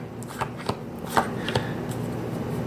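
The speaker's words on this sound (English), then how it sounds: "let's just do a little shuffle of the..." Tarot cards shuffled by hand in a quiet room, giving a run of soft, crisp riffling bursts and slaps close to the listener, with no talking.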